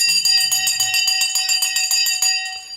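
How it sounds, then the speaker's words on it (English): A bell rung to close the trading week at the end of a stock market show, sounding as a fast run of bright, ringing strikes that fade out over the last half second. "Okay, ring the bell."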